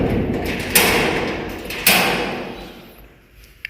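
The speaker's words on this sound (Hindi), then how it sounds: "अब चलता हूँ नीचे, दरवाज़े को करता हूँ लॉक।" A house door is shut and locked, giving two sharp thuds about a second apart, each with a brief rattling decay, and then a small click near the end, close by, with no talk.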